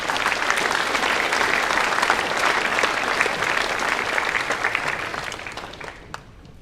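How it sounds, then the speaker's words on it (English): A crowd at a school assembly applauds steadily with dense clapping that gradually fades out toward the end, a few final claps trailing off. "One more round of applause, please."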